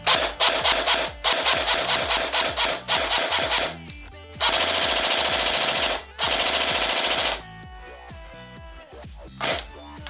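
A G&G MP5A5 airsoft gun on a customer-supplied LiPo battery fires in loud, buzzing full-auto bursts of varying length, broken by short pauses and a few quick single shots, with mechanical gearbox whine.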